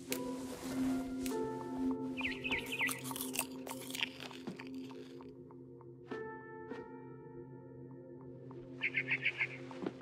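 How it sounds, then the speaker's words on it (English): Synthetic bird chirps from the video game What Remains of Edith Finch twitter in quick bursts over a steady electronic hum, with scattered clicks and crunchy sounds in between. "Then I heard chirping outside my window."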